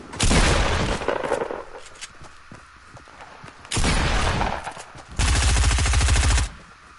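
Minigun fire in the Fortnite battle royale game, three long sustained rapid-fire bursts, loud and close, separated by short gaps with scattered lighter shots between them.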